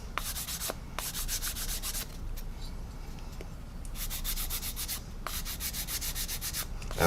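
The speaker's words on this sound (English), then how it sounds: "I'm just going to basically sand over the parts which should be silver" Steady rhythmic scraping of a sanding stick rubbing paint off a 1/8 scale Mustang model engine part, close up, in repeated bursts with a short pause midway.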